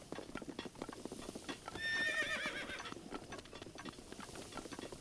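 Horse hooves pound steadily in a fast gallop across open ground in the video game Breath of the Wild, with a louder neigh-like swell rising in the middle of the run.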